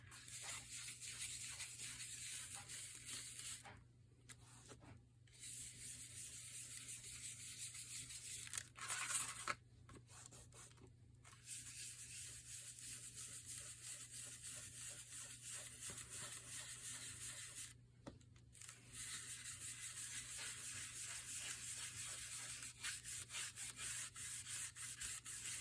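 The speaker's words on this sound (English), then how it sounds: "I go around and I'm pulling the color in," Raspberry-coloured ink or paint being rubbed by hand across craft paper, a steady soft scuffing and sanding texture that runs continuously with a few brief pauses, close and fairly quiet, with no talking.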